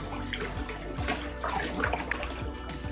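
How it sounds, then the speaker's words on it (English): Liquid is poured into a homemade multipurpose liquid soap mixture and stirred, giving continuous watery sloshing and splashing close up, with short bursts of churning, no talk. "Next, I will add it to the mixture and mix properly."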